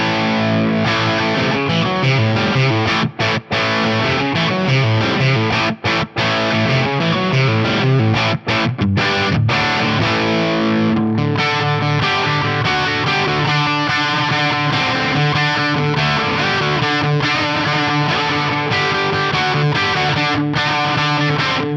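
Distorted electric guitar played through a Marshall 2204 amp at stock settings with a PRS DGT bridge pickup, cab IR and plate reverb, chugging chords and riffs running continuously with brief stops, loud and close with no talking.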